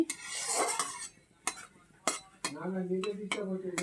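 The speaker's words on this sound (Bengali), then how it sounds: "তো ফোড়নটাকে একটু সুন্দর করে ভেজে নেব" A spoon scrapes and stirs in a hot pan in short bursts, with light sizzling and a few metallic clinks between strokes.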